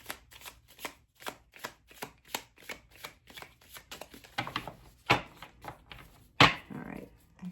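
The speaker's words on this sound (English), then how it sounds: "All right, I gotta shuffle." A tarot deck is shuffled by hand in a steady series of soft riffling taps, close and fairly quiet, ending with a few sharper knocks as the cards are squared up.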